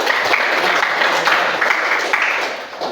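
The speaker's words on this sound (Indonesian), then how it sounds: "Tepuk tangan buat kalian semua." Students in a classroom applaud after presentations, a loud, steady patter of many hands clapping together close by, lasting the whole stretch without pause.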